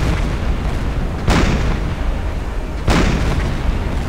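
Enemy ship hit and destroyed in the submarine game Silent Hunter 4, a dense roar of rumbling noise broken by two heavy booming blasts about a second and a half apart, loud and close, no talking.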